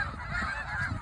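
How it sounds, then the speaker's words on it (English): Many wild birds honk at dusk at Bosque del Apache Wildlife Refuge, a dense, continuous chorus of overlapping calls from a flock heard at a moderate distance. "what we're waiting for is the thousands of birds that come in"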